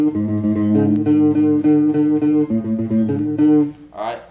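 A guitar plays a fast, steady kompa groove with bright, repeating chord and note patterns, loud and close, continuing for several seconds before a brief pause, followed by a short burst of a voice speaking.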